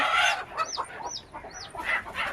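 Several country hens cluck and squawk close by in short, repeated calls, with no one talking over them.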